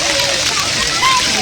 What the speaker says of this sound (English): Kid playing with the water.